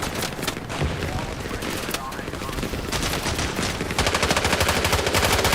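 Gunfire in the Vietnam-era shooter Hell Let Loose Vietnam: repeated sharp shots and bursts of automatic fire. It builds into a dense rapid rattle near the end, with faint voices underneath.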